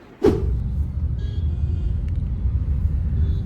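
Car engines rumble low and steady in peak traffic, a close, constant drone after a brief knock at the start, with faint higher whirs drifting in the background.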